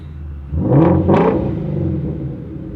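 A 2016 Ford Mustang GT350 with sport exhaust mode engaged, revving twice in quick succession with loud, deep bursts over a steady idle rumble, heard up close.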